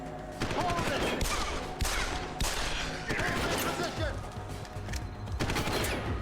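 Gunfire in the PC game Deus Ex: Human Revolution, repeated loud shots and bursts in irregular rhythm, a dense firefight close up, with a voice talking faintly underneath.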